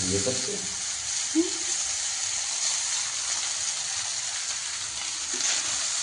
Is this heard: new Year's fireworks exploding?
no